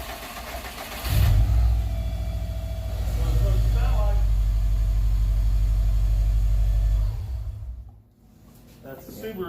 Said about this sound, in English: That's the Subaru.